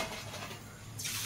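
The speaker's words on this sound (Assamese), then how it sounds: "এয়া শেৱালি ফুলৰ পাত বেচনত লেটিয়াই পকৰি বনোৱা আৰম্ভ কৰা হৈছে" Shewali flower leaf pakoras coated in gram flour batter fry in hot oil, a steady close sizzle with faint stirring scrapes that brighten near the end.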